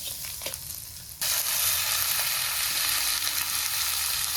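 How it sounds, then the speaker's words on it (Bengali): After a quiet moment, a sudden loud sizzle bursts out as vegetables are poured onto a fried spice tempering in hot oil, then crackles and hisses steadily. "এখান থেকে ফোড়নের উপর ঢেলে দেবো"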